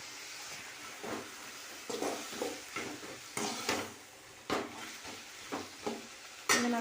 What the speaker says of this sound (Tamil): இப்போ தக்காளி நல்லா வதங்கிருச்சு